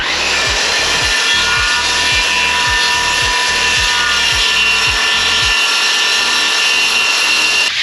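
A wooden board for a van's wall panel being hand-sawn in quick, steady back-and-forth strokes, loud and close for about five seconds before the cutting stops, with a constant background hum.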